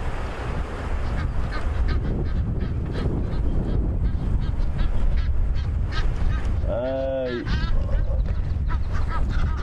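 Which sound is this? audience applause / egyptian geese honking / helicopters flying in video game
egyptian geese honking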